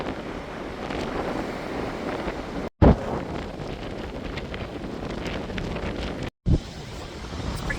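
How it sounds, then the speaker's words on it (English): Cold, strong wind by a rough February sea, buffeting the microphone in a continuous roar with two brief dropouts and bumps. "It's pretty cold and windy."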